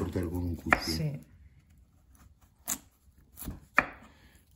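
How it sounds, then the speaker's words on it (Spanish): A knife chopping through a hard raw potato outdoors, a few separate sharp chops spaced apart, with a voice talking near the start. "La papa es difícil de cortar con un cuchillo."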